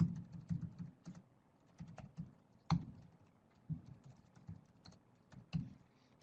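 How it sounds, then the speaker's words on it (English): Typing on a computer keyboard, irregular clusters of soft close key clicks with short pauses, quiet and alone. "all I have to do is type in a new address"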